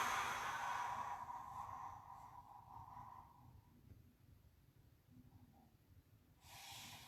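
A slow, airy exhale during a breathing exercise for elderly people with reduced mobility, a faint close breath that trails off over a few seconds, followed by a quieter pause and the start of another breath.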